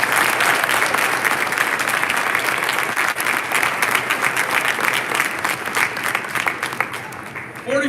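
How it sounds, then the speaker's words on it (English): An audience at a live event gives a round of applause, dense and sustained clapping close by that thins out toward the end, with a voice briefly audible beneath it. "Give them a round of applause."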